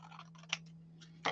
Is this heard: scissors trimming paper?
yes